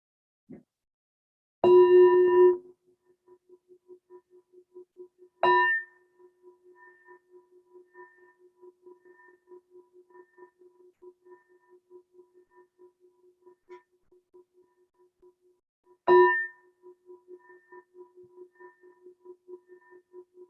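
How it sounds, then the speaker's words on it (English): A meditation bell at a Buddhist centre is struck three times, each strike ringing out clear and then fading into a long, shimmering hum, with quiet stretches between strikes. "bring your attention to this bell sound, please, and follow the sound"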